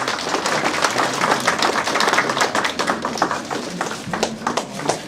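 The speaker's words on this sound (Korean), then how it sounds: "박수 소리가 별로 작은 거 보니까" An audience applauding at a year-end arts awards ceremony, a dense patter of many hands clapping steadily throughout, fairly loud and unbroken by speech.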